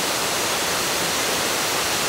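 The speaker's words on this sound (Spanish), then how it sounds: "Primera cascada ya." Roaring waterfall on a hike, the first of several cascades near a parking area, heard as a steady, loud, dense rush of falling water with no break throughout.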